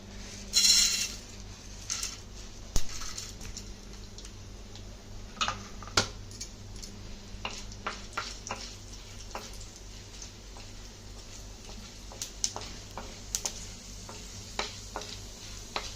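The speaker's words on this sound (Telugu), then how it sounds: "నూనె బాగా కాగింది కదండి, మనం ఇందులో పోపులు వేసేద్దాం." Irregular small pops and crackles of mustard seeds spluttering in hot oil, sharp and scattered across the clip, with no talking.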